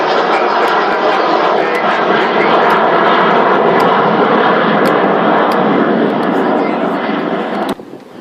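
The Avro Vulcan XH558 flies in formation with RB-8 aircraft at the RAF Cosford Airshow. A loud, sustained engine roar fills the air, then cuts off abruptly near the end.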